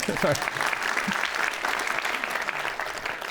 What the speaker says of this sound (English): I didn't give you a round of applause for your point.